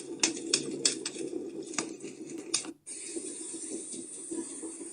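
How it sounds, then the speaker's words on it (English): A Vindsbay travel sleep sound machine plays a campfire: continuous crackling and popping with sharp snaps over a low rushing bed, briefly dropping out before resuming steadily. "Campfire."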